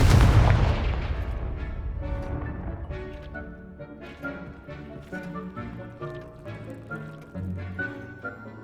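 A Confringo fire spell explodes in the Hogwarts Legacy video game, a loud booming burst at the start that rumbles away and gives way to game music playing alone.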